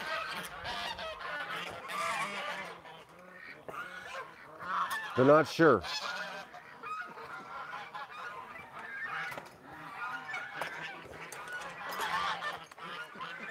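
Geese honk outdoors in the early morning, a burst of loud overlapping honks in the middle with scattered quieter calls around it, while someone talks over much of it.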